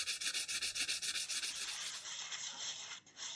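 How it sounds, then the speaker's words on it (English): A stick of compressed charcoal is rubbed back and forth across sandpaper in quick rhythmic strokes, a close dry scratching that settles into a steadier, smoother rasp partway through, with no talk. "Now we can shave the charcoal across the sandpaper to make this beautiful fine powder"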